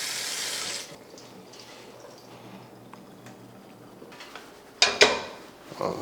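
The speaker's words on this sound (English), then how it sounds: "We can run some cool water over it to slow the cooking just a little." Cool tap water runs over freshly strained cooked food for a wagyu bolognese, a loud steady splash for just under a second before fading to a soft background trickle, followed by a few sharp clanks of pans or utensils near the end.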